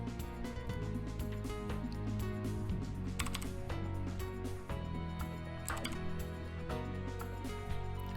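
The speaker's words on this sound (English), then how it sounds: "what we're gonna type in is this" Fingers tap rapidly on a computer keyboard at close range, a busy run of crisp keystroke clicks with brief pauses and a few louder clacks.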